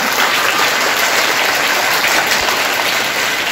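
Children clapping loudly at a Marathi Day school quiz in a primary school, dense sustained applause from a crowd that holds steady at full volume throughout.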